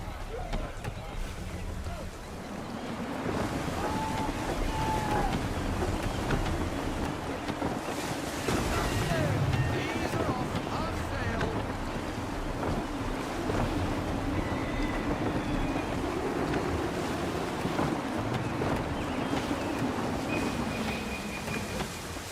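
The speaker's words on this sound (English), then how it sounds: "Gusty winds can be difficult to manage." A sailing ship in Assassin's Creed 3 runs through gusty wind and waves. Broad rushing wind and surging water roar steadily, with a creaking hull and faint calls beneath, and a voice speaks over it.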